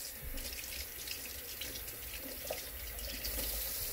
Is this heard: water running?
yes